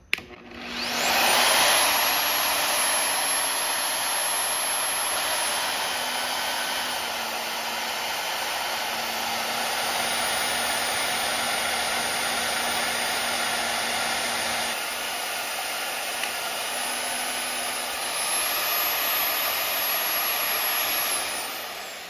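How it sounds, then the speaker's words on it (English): A VEVOR 1450W magnetic drill bores into metal with its cutter head, a loud sustained motor whine with a high steady tone and grinding hum that holds for about twenty seconds, alone without talk. "you can just turn the thing on and start lowering your cutter head"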